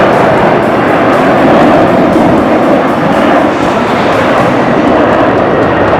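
A fixed-wing airplane coming in near the airport beside I-40 in Amarillo, Texas, a steady, loud broadband roar holding through the whole stretch, mixed with highway traffic and with no talk over it.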